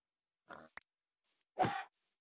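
Two short Minecraft pig grunts with a brief click between them, sparse and separated by silence, the second louder and fuller.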